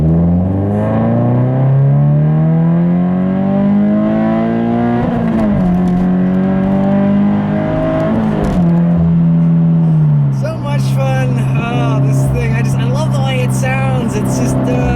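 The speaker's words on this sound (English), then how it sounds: "I'll leave you guys with a nice little acceleration here" A Subaru BRZ accelerating hard onto a highway merge after a bit of wheel spin, its engine note climbing steadily through the gears, loud and close from inside the car, ending with road noise.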